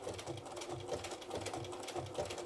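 A sewing machine runs a blanket stitch around the edge of a fabric applique, humming steadily with a regular pulsing rhythm of needle strokes, close and continuous with no talking.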